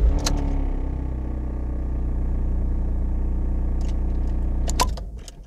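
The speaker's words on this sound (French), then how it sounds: "La voiture démarre bien." A Seat Leon TDI 150 diesel engine idles with a low steady rumble after starting, a few clicks and clunks near the end before the sound fades; no one speaks.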